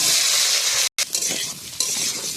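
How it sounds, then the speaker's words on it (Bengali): Potatoes tossed into hot oil with cumin seeds and dried chili in a pan over a wood-fired village stove: a loud, continuous hiss of frying, briefly cut off, with utensil scrapes and clinks as the pieces are stirred. "দিয়ে দেব তেল, দিয়ে দেব জিরা, শুকনো লঙ্কা, এবারে দিয়ে দেবো আলু"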